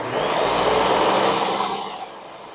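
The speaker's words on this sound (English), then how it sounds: "let's continue to blend this just a little more" A blender whirs steadily and loudly as it blends a strawberry jam mixture, holding a dense, even drone for about two seconds with no talking.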